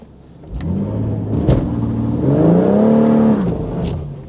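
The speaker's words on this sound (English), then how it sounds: "It's just spinning the rear wheels." A BMW M140i spinning its rear wheels on a hard launch, the engine revving up and holding high with a loud, close rising roar as the tyres lose grip.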